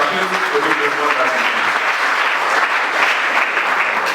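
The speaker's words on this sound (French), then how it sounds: "je voudrais, par une acclamation, que l'on puisse saluer cet engagement du ministre Marie Coaqueuse" Sustained audience applause and acclamation at an award ceremony for a digital contest in Sinfra, a dense, even wash of clapping from a large crowd, loud and continuous throughout, with faint voices at the start.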